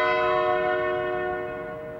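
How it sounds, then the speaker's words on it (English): A single deep chime of the clock bell at the Tower of London striking ten, ringing out clearly with a long, slowly fading resonant hum, no voices. "the clock chimes 10"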